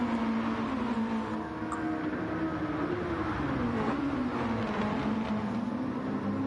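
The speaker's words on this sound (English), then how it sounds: "I really, really love to hear the sound of these race cars on track" Race cars lapping a track during qualifying, a steady droning engine note that rises and falls slightly as the cars run at a distance, with no talk over it.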